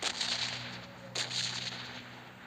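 A grenade blast in the PUBG Mobile shooter game, a sharp burst at the start followed by a second sharp crack midway, over a steady low in-game hum, with no talk.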